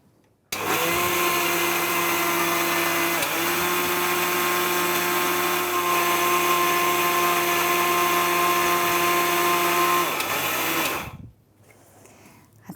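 An electric blender grinds whole spices and rice with a pinch of salt, a loud steady high-pitched whir running continuously for about ten seconds before cutting off abruptly.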